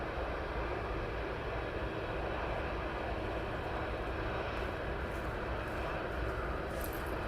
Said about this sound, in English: Next aircraft is the FedEx 767 from Paris.